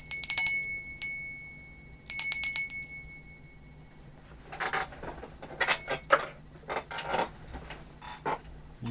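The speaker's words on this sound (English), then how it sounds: "Let me ring my temple bell." A small temple bell is struck three times, each clear metallic ring decaying over a second or so, followed by scattered light clinks and rattles of handled objects nearby.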